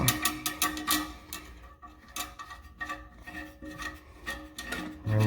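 Bolt being threaded onto a toilet handle, close-up scraping, rasping and clicking in irregular bursts of handling noise with no speech.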